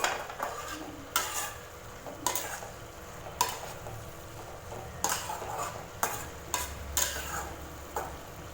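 Chow chow with garlic and coconut fries over high flame, a soft sizzle broken by regular scraping strokes of a spoon against the pan, roughly once a second.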